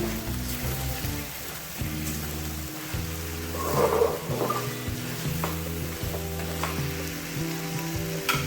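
Julienned ginger frying on low heat in a karahi alongside green chillies, a soft continuous sizzle with faint stirring and occasional utensil taps, no talking.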